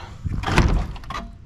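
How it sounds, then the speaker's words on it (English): The door of a rusted 1959 Ford Thunderbird being closed, a single dull metallic thud with a brief rattle, close and fairly quiet. "I'm gonna close the door on it."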